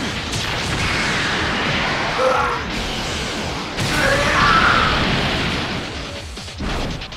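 A loud, sustained video game energy beam attack roars and crackles for several seconds, swelling in bursts, with rumbling booms layered underneath.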